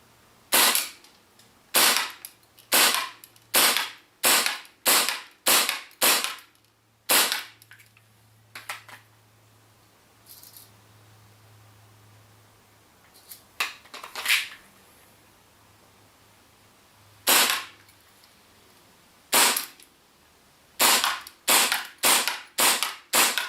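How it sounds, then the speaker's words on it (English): Tokyo Marui Hi-Capa D.O.R. airsoft pistol firing BBs, out of the box, at targets 15 meters away: sharp snappy shots in quick bursts of several, separated by pauses with faint distant impacts, with a low background hum. "This is how it's going to shoot at 15 meters,"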